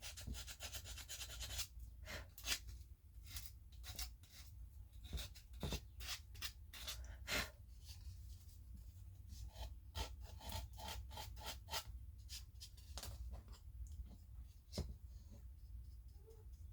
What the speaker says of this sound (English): I think I need to take my emery board and sand that a little bit.